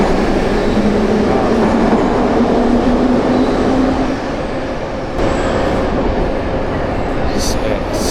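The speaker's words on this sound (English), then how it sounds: "Alright, this looks like a pretty busy subway station." Steady rumble of a subway train in a busy Tashkent metro station, with loud broadband noise and crowd chatter mixed throughout, and a brief squeal near the end.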